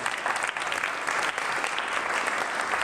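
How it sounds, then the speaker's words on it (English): An audience at a speaking event in a New York hotel breaks into applause, a thick continuous roar of many hands clapping close and loud with no talk over it. "Clap it up for Jordan."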